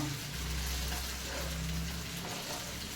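Pieces of fish fry in a pan with a dense, even sizzle close by, steady throughout with no voices.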